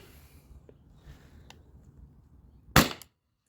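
A single sharp shot from a Byrna launcher fired over a chronograph, one loud crack near the end standing out against a quiet, low background hum.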